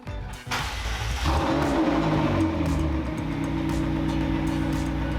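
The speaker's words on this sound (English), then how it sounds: "So I gotta start the engine, make sure it's in neutral, and apply the parking brake." A McLaren 650S engine turns over and settles into a steady, loud idle close by, with a deep continuous rumble and no talking.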